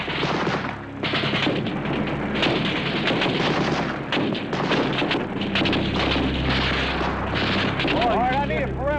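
A battle with dense gunfire and mortar fire from a hilltop position: a loud, continuous barrage of overlapping shots and booming blasts, with a rising whistle near the end.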